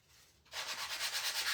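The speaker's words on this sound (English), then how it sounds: "I am gonna sand this a little bit." A sanding block rubs across a small wooden piece of handmade Christmas decor in quick back-and-forth strokes. The close, rhythmic rasping starts suddenly after a near-silent moment.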